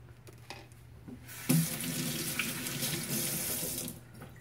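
Water kefir liquid poured down a kitchen sink drain, a steady close splashing rush starting abruptly and running for a few seconds before easing off, no talking.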